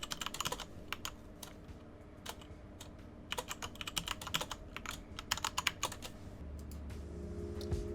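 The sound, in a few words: typing a password on a computer keyboard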